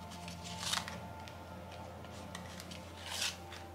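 Cards being drawn and laid out for a tarot-style reading, two brief papery swishes of shuffling and sliding, quiet and close, with a low steady hum beneath.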